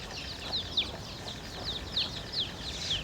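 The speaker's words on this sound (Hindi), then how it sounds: "मुर्गा मुर्गी, उसका बच्चा भी देखो संगत में।" Chickens, including a rooster and hens with chicks, in a hilly rural area cluck in short repeated bursts, moderately near over a steady outdoor background hiss.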